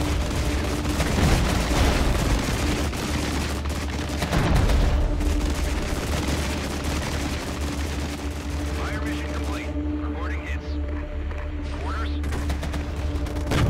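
Artillery fire mission in the Cold War strategy game Flashpoint Germany, with Soviet forces attacking: a sustained barrage of rumbling blasts and rattling gunfire, heaviest in the first seconds and continuing steadily, with faint talk mixed in.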